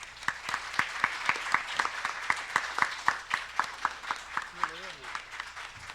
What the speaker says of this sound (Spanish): Les pido un muy fuerte aplauso para él